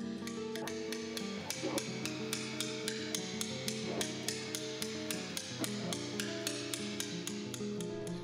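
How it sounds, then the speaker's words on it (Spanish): Hammer striking a chisel while carving stone, a fast, even train of bright metallic taps repeating steadily throughout, close and clear with no talk. "El cincel a cada golpe se levanta y avanza buscando siempre la salida del material."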